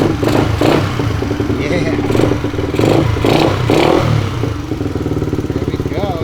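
A custom Honda Sonic 125cc motorbike fitted with a 150 CBR head starts up and revs in bursts, its engine loud and close, with brief speech over the clatter.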